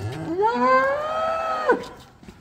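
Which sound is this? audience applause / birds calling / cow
cow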